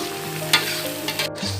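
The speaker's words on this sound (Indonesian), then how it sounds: "semua prosesnya harus ditumis dan diaduk lebih lama teman-teman ya." Peanut sambal sautéed and stirred in a pan, a steady close sizzle with scraping spatula strokes, one sharper clatter partway through and a low hum beneath.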